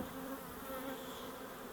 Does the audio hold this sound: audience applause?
no